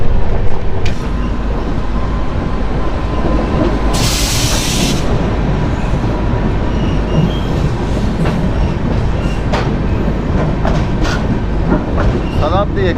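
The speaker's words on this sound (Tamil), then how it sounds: "Shatabdi express, Bangalore to Chennai Shatabdi express வந்து நம்ம வந்து காட்பாடியில் கிராஸ் ஆகுது." The Bangalore to Chennai Shatabdi Express roars past at Katpadi with a loud, continuous rumble and rattling wheels, a brief hiss of air partway through, and steady clatter until the end.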